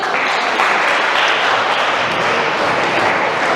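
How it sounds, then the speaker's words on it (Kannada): Audience applause fills a college quiz event in Bangalore, a steady dense wash of clapping hands that holds loud and even throughout without a break. "ಹೊಡಿರಿ ಚಪ್ಪಾಳೆ"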